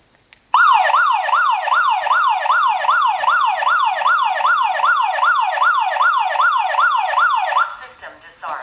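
A security system alarm siren at regular volume starts abruptly and wails in a fast, steady up-and-down sweep for about seven seconds, loud and close, then cuts off into brief handling noise.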